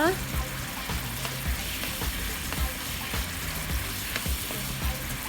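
Crispy pork stir-fried in bubbling sauce in a wok, a loud steady sizzle with rhythmic scraping strokes of the spatula repeating about every half second, no voices.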